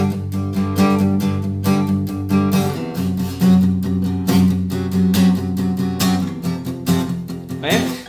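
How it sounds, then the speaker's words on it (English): Power chords strummed on an acoustic guitar, with steady rhythmic down-strokes ringing out close and full over several bars and brief pauses between phrases. "power chords played on an acoustic guitar sound like this."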